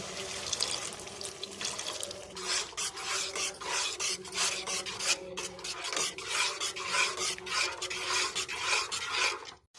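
A spoon scrapes and stirs a spice paste of Kashmiri chilli with a splash of water in a pan for a prawn malai curry, giving rhythmic rasping strokes that repeat steadily close up, with no voices.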